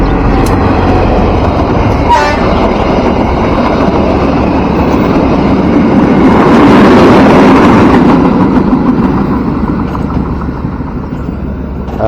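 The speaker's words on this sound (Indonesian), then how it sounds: "kita saksikan momen kereta api Sibinuang." The Sibinuang passenger train in Padang, Indonesia, rumbles past close by, its roar building and staying steady with rattling wheels, then easing slightly toward the end.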